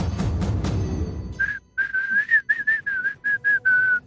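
A person whistling a tune on a television game show stage. About ten short, clear whistled notes in a row follow a burst of crowd noise, and the whistling is close and fairly loud.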